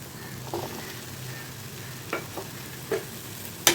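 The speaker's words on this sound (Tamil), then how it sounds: "இப்போ எல்லாத்தையும் கிளறி விட்டுக்கலாம்." Drumstick poriyal with sambar powder and spices stirred in a pan, a soft low sizzle under a few light scrapes and clinks of the spoon, close and fairly quiet.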